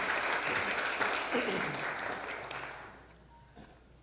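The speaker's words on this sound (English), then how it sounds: "let's give a big round of applause to Che Kansoro," Church congregation applause at a Sunday service fills the room as a dense wash of clapping, then tapers off into quieter scattered claps, with a voice briefly speaking near the end.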